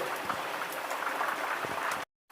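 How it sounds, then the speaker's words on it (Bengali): Heavy rain pours in Saudi Arabia during a winter night, a steady dense hiss of falling water at moderate level that breaks off abruptly near the end. "বৃষ্টির পানি আমাদের ইস্তারার ভিতরে চলে যেতেছে, প্রচুর বৃষ্টি।"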